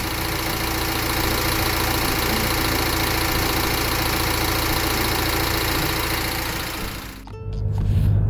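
A Renault Vel Satis with the M9R diesel engine and JF613E automatic gearbox idles steadily after a gearbox oil change, a constant close engine hum that cuts off abruptly near the end.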